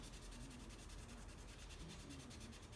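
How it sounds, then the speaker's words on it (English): A Magic Eraser scrubs an anime figure with faint, rhythmic back-and-forth rubbing strokes, soft and close, with no talking. "You hear that scrubbing noise? That's pretty much me doing this off screen."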